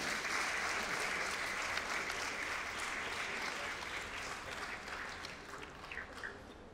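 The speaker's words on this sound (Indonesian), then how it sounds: "Tepuk tangan untuk semuanya." Sustained applause from a concert audience at a 50th-anniversary show by a choir, steady and dense throughout, slowly tapering slightly toward the end.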